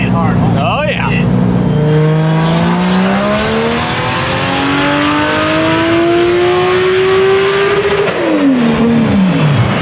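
A 1000hp 2JZ-swapped BMW drift car revs hard on a dyno, a loud, close engine roar climbing steadily in pitch for several seconds before dropping off, with a sharp pop early on.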